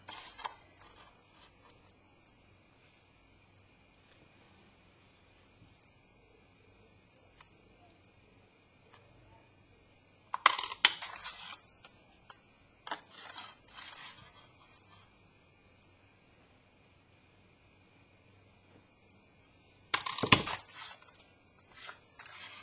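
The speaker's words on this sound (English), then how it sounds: "you're going to use this punch to cut out your track" Crisp clunks and snips of a Stampin' Up word window punch cutting card stock come in a few clustered bursts after long near-silent stretches, close to the mic, with faint talk in between.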